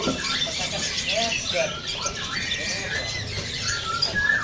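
Caged songbirds, said to come from a Sumatran forest, give short high chirps and squeaky calls at a bird seller's stall, heard amid a noisy, busy background with people talking nearby.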